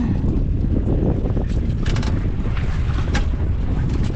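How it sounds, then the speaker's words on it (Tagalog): Strong northeast monsoon wind buffets the microphone at sea near an island, a steady loud low roar with gusty surges and no speech. "Naabutan po kami ng amihan."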